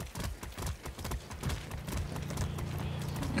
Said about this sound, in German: Wir reiten vom Hof.